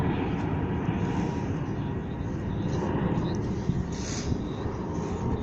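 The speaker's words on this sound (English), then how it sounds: "See it and hear it with this plane." An airplane passes overhead at an outdoor car show, a steady broad engine rumble and whoosh that holds its level throughout, with people talking beneath it.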